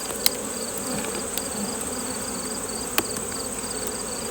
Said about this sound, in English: there will be nurse bees on it that we'll shake off